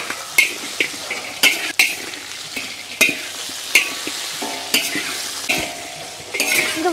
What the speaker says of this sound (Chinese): 先给它翻炒一下。